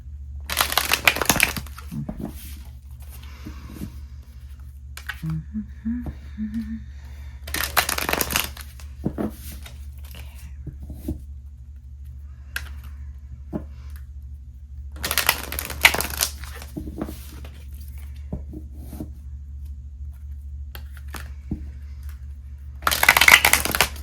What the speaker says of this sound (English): let's give your tarot deck a shuffle here